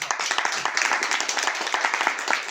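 Audience clapping at an E-Biotorium product presentation in a Biochem company setting: dense, steady hand claps from a crowd, fairly close and sustained throughout, with sharp individual claps standing out from the mass.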